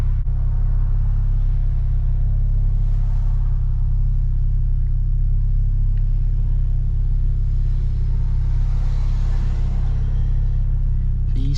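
A 400 hp BMW F10 with a V6 cruising on a toll road in snow, heard from inside as a steady low engine and road rumble, constant and loud throughout.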